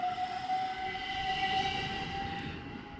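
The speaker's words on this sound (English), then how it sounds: "This train will be ready to depart, and it is going." A train pulls away from Hadley Wood station on the East Coast Main Line, its rumbling wheels and motor noise carrying a faint steady whine that drifts slightly in pitch, heard at moderate distance with no talking.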